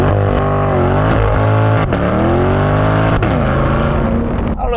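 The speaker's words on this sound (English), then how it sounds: "now we're gonna do a quick burnout with it in competitive driving mode." A C8 Corvette does a burnout in competitive driving mode: a loud, sustained, high-revving engine roar with shifting pitch throughout, punctuated by a few sharp pops or clicks.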